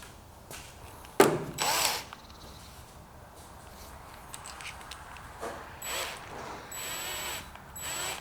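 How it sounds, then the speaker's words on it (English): Power drill running during a Mini restoration on the scuttle, a short loud whir near the start, then quieter intermittent spinning and buzzing, close by with no talk. "What you want to do is get the drill going and then slowly push"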